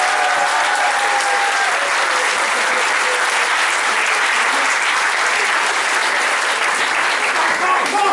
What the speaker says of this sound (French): Une fois d'applaudissements pour tous les participants du concours.